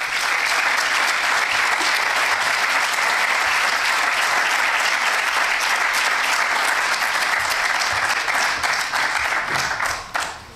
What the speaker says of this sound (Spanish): ahora cuando empecéis a aplaudir